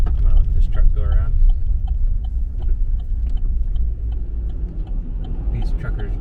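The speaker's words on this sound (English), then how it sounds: "I'm gonna let this truck go around." A truck on Alaska's Dalton Highway rolls around a stopped vehicle in avalanche territory, its steady engine rumble running throughout beneath people talking nearby.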